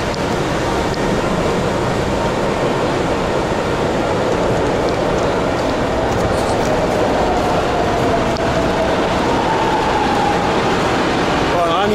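A São Paulo metro train rushes through a station at close range with a loud, continuous roar and rumble of wheels on rail, steady throughout and with no talking.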